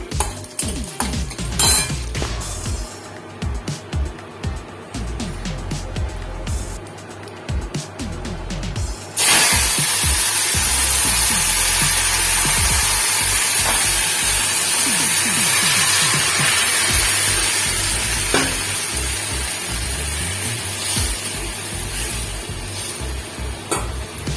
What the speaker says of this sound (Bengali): কড়াইতে তেল দিয়ে দিচ্ছি শুকনো লঙ্কা তেজপাতা জিরে কালো জিরে ফোড়ন দিলাম